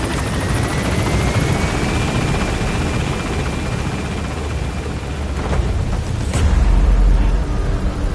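The Pequod helicopter in Metal Gear Solid 5 thumps continuously as it gains altitude, a dense, loud rotor roar that swells and deepens near the end.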